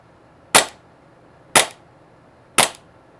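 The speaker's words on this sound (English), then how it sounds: "I'll do a quick dry fire test so you guys can kind of see what the gun looks like when it's shooting, how the blowback is" A G&G Armament GTP9 green gas airsoft pistol fires three times, one sharp snapping blowback crack about every second, close and clear against quiet background.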